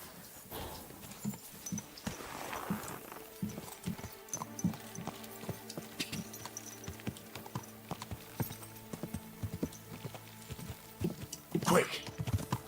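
Horse hooves clip-clop in Kingdom Come Deliverance 2 as a steady run of hoof strikes under game music, with a person talking over the start and a louder burst near the end.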